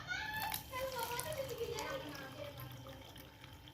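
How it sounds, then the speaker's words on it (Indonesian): Warm water poured into a glass during a home alcohol fermentation setup with balloons, giving a short splashing pour with a rising ringing tone as the glass fills, close and moderately loud, with faint voices in the background. "Setelah itu masukkan air hangat ke dalam gelas 1."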